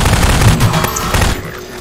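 Rapid, dense bursts of automatic gunfire in Garry's Mod crackle loudly and continuously before tapering off, with no clear talking.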